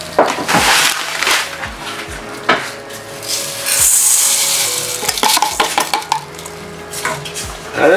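Butter and sugar for a Guyanese fruit cake are mixed in a bowl, giving close scraping, stirring strokes and intermittent knocks against the bowl in an irregular rhythm.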